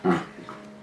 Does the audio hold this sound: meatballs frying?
no